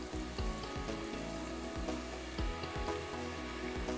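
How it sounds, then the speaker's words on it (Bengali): Washed potatoes deep-fry in oil with a soft, crackling sizzle, dotted with small pops and bubbling that carry on steadily at low volume. "এবার এটাকে আমরা এরকম ডুবো তেলে ভাজবো"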